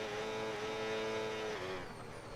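A high-pitched race car engine in a racing video game, an Audi on a wet Canadian Grand Prix track, screams at steady high revs, holding near its limit before the pitch dips and shifts toward the end.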